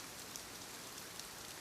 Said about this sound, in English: Rain ran down the sloped panes in uneven lines